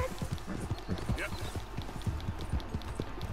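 Horse hooves clip-clop in a steady rhythm in Red Dead Redemption 2, close and fairly loud, with talk over the top and a brief whinny-like sound.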